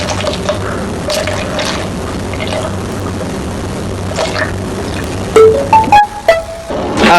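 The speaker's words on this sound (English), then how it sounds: "you put 120 milliliters of semi-skimmed milk into the measuring jug" Semi-skimmed milk is poured into a measuring jug with a soft, continuous liquid trickle under kitchen background noise, close by, ending in a few louder clunks and knocks.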